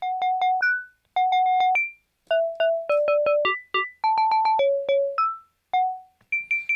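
Dry through-zero FM synth mallet tones with no reverb, playing short repeated plucked notes in quick rhythmic bursts at shifting pitches, clean and close with crisp attacks and brief gaps between phrases.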